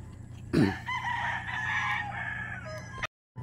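A Kelso gamefowl rooster crows once, close and loud, one long drawn-out call lasting about two and a half seconds over a low background hum before cutting off.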